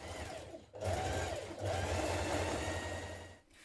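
A sewing machine runs steadily, stitching the shoulder seams of a knit dress with a 1.5 centimetre seam allowance. It plays in two close, loud bursts separated by a brief pause.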